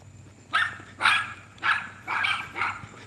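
A dog barks five times in a steady rhythm, each bark loud and close, with short pauses between them and a low background hum underneath.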